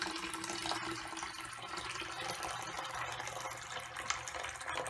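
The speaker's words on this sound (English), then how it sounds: "pouring off supernatant until we just about lose the solids" Liquid supernatant from a turbid grayish-black humic acid (humate) solution is poured off the settled solids, giving a steady, soft trickle and splash with faint drips, quiet and unbroken.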